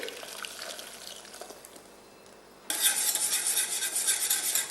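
Mango custard being stirred in a saucepan over low heat, a utensil scraping and swirling against the pan, quiet at first and then louder and busier toward the end.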